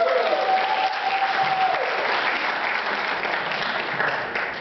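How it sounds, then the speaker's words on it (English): Broad, steady applause from a live audience at a charity comedy show, a dense wash of clapping that holds evenly and eases slightly at the end. "Give yourselves a round of applause on that one."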